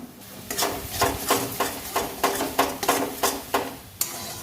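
Ingredients for a bean mash frying in a pan, with about a dozen rhythmic stirring scrapes and clinks of a utensil against the metal over a low sizzle, close and fairly loud.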